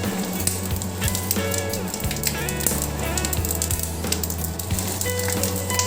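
Fish dropped into a hot pan of oil while cooking a Bengali fish curry, macher jhal, giving a loud close crackling sizzle with sharp spitting pops that carries on steadily.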